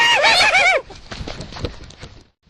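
A horse gives a loud, close, high whinny that trails off, followed by soft scattered hoof clops and faint rustling.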